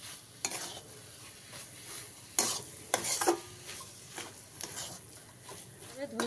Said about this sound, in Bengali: ধনেপাতার কুচি দিয়ে অল্প একটু সময় মিশিয়ে নেবেন।